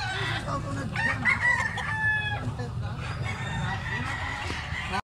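A medium-sized two-year-old rooster, about two kilos, crows loudly and close among clucking fowl, the drawn-out call rising and falling over a busy farmyard background with faint voices.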